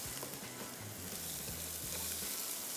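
Onion and garlic fry in a pan with a steady, even sizzle and crackle, continuous and fairly close, with a faint low hum underneath and no voices.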